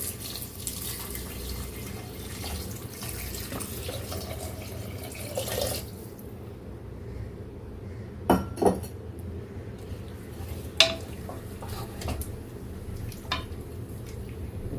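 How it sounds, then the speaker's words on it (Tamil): Water streams into a pot of vegetable soup for several seconds, then stops, followed by a few sharp metallic clinks and clatters. "இப்போ இதில் நம்ம தண்ணி விட போகிறோம்"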